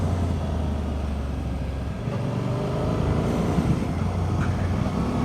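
Suzuki V-Strom 800 ride on an open road: a steady low engine drone under heavy rushing wind, mostly constant with a slight shift in pitch partway through.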